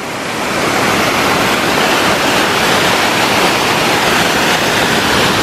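A rushing mountain torrent on a hiking trail near alpine lakes in Haute-Savoie roars as a continuous, loud, broadband wash of water, steady and close with no voices over it.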